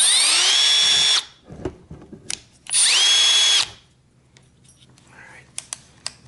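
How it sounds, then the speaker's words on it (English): Milwaukee M12 brushless hammer drill running in two loud bursts of about a second each, motor pitch ramping up then spinning down, with small clicks and handling knocks between and after. "If you want to drill, here's your drill."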